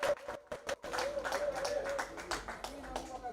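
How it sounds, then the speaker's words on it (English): Members of an elite football club are applauded at a corporate tournament draws event, with scattered close claps breaking into a steady crowd round of clapping that continues throughout. "a round of applause for them."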